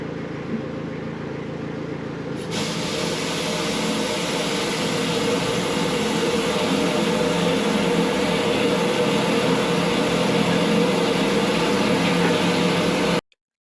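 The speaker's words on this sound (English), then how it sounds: "so when I put the jetter on" A high-pressure drain jetter starts up and runs in a sewer pipe, a loud, constant roaring hiss that kicks in after a couple of seconds and holds steady until it cuts off abruptly, with no talking.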